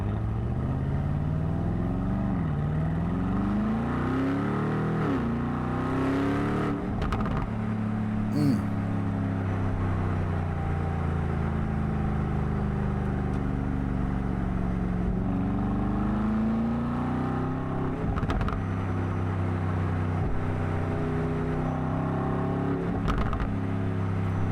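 A stock, unmodified 2026 Aston Martin Vantage S exhaust rumbles and burbles at idle before pulling away, a deep, loud, steady engine drone with rising and falling revs throughout.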